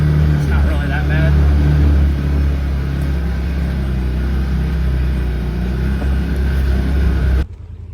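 A Can-Am Defender UTV with stock shocks drives along a wooded trail, its engine a loud, steady, close rumble that holds throughout, then drops off abruptly near the end.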